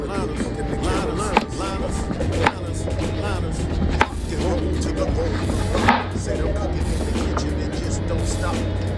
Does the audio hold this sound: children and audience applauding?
no